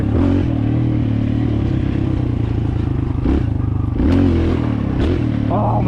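Kawasaki KLX 140L dirt bike engine held on the clutch and revved hard: a loud, continuous, rasping engine roar that rises and falls in pitch over several blips, heard up close and alone.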